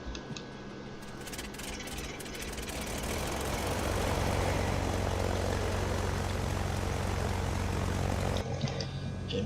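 A propeller aircraft's engine number two spins up in Microsoft Flight Simulator, a low droning whir building steadily in loudness and roughness over several seconds, then holding a dense, sustained roar before cutting back sharply near the end.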